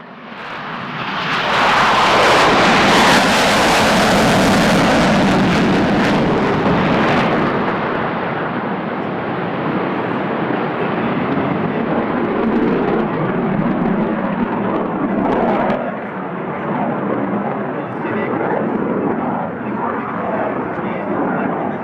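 An F-111 jet roars past low during an air show flying display with the Blue Mountains nearby. The loud, thunderous engine noise swells up, then holds as a sustained rumble while a voice talks over it.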